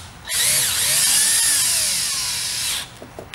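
A power drill drives screws into a Sparksmith Cat Eye sequential grille bar on a Chevrolet Silverado, giving one close, loud, steady whirring run of about two and a half seconds that stops abruptly, followed by a few small clicks.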